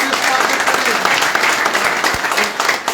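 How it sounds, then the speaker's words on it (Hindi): Audience applause welcoming a new member at a BJP joining event in Jammu and Kashmir, steady dense clapping filling the whole stretch at close, loud level. "तालियों से स्वागत"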